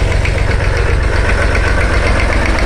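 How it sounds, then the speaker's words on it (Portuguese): A Massey Ferguson 50X tractor engine idles close by, a loud, steady low-pitched chugging with a fast even knock that holds throughout. "daqui a pouco aí com o seu Florisvaldo mostrando o tratorzinho aí, pessoal"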